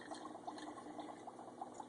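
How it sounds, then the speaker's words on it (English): Homemade soda pours into a container as a faint, steady liquid trickle with a light bubbling texture, quiet and close, with no voices. "I'm just going to go ahead and pour it into a container."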